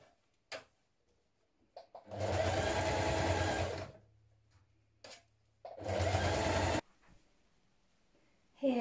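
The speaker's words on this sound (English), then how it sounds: "Now press or pin up your hem and stitch in place with a stretch stitch." A sewing machine stitches a hem with a stretch stitch in two steady bursts of close, whirring mechanical running of a second or more each, separated by quiet pauses and small clicks.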